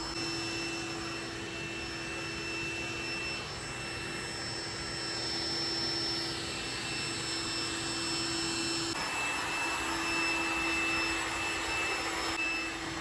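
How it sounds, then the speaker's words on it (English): A Trifo Ollie pet robot vacuum runs at its highest suction setting, giving a loud, continuous whirring drone with steady high-pitched whine tones and a slight shift in pitch partway through. "Now I'm going to adjust the suction setting, and I'm going to turn it up to the highest setting."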